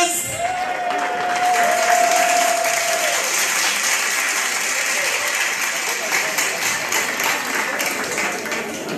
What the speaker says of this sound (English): Let's give Jesus a round of applause.